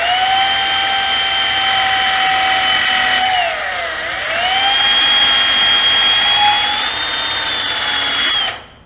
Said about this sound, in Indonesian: contoh untuk amplas obeng, misalnya obengnya tumpul atau bagaimana ya, ini ada obeng